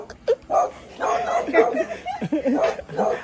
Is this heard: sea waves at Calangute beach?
no